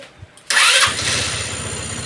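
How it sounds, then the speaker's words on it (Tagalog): Motorcycle being started at home during a check of a faulty sidestand sensor: a faint click, then the engine catches with a sudden loud burst and settles into a close, steady, chugging idle. "Try natin pa startin."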